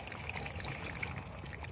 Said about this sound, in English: Let me add some more water.